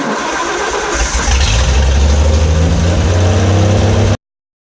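A 223 inline six engine running with a low, throaty idle and rising revs, loud and close, holding steady for about four seconds before cutting off abruptly.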